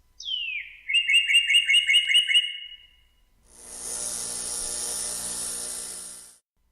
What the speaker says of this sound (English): The bird sings.